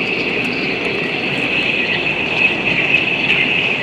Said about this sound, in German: Hört ihr, wie das ganze Eis knattert?